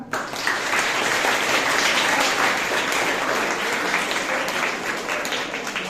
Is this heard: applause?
yes